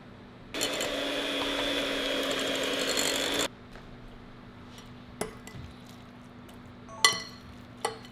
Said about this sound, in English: use the electric mixer to get the wet ingredients